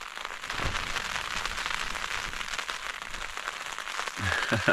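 Rain patters on a tent during a summer wild camp in the Snowdonia mountains, a dense steady pattering close overhead with rising wind, and a few louder taps and rustles near the end.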